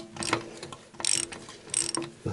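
Ratchet clicking in bursts as a rusty nut is worked loose on a Yamaha XJ900S motorcycle, with three or four close, sharp runs of rapid clicks separated by brief pauses.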